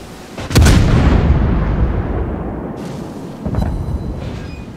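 Warship artillery fire in World of Warships: a heavy, booming naval gun blast that rolls and decays over a couple of seconds, then a second, softer salvo follows.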